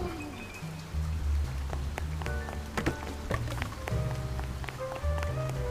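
Rain falls in the Duck Detective video game, a soft steady patter with scattered drips and taps beneath tonal game music.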